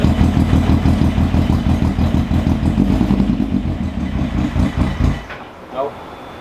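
A car engine running loud and rough with a pulsing, revved drone for about five seconds, then dropping away to a quieter uneven idle with a brief clatter near the end.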